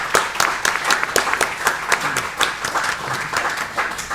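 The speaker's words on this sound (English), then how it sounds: "can I give a big warm round of applause for both of our speakers this evening?" Audience applause for two speakers at the close of an evening talk on genocide charges against Israel, a dense, steady clapping from a room crowd filling the whole stretch without voices.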